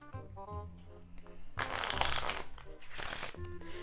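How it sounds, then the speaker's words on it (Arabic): A deck of playing cards is shuffled in a quick riffling burst, crisp fluttering and snapping over soft background music. "خلونا نلخبط الكوتشينة."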